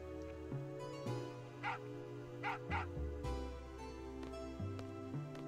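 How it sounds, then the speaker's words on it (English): A few yappy dog barks in Final Fantasy VIII, faint and scattered over a steady in-game musical drone. "Who let a dog in?"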